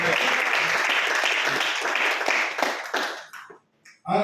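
A church congregation applauds God in worship, a loud sustained burst of many hands clapping with voices mixed in, fading out near the end before a voice briefly returns.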